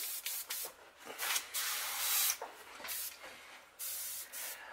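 Airbrush spraying Antelope Brown paint at low pressure through a stencil onto a Lakeville Pumpkinseed crankbait, heard as short close hissing bursts, about eight or nine of them with brief pauses between.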